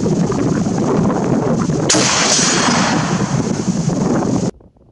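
A single loud shot rings out from an FN 1950 Mauser carbine in .30-06 with an 18-inch barrel, a sharp crack over heavy outdoor noise followed by a rolling boom that cuts off abruptly.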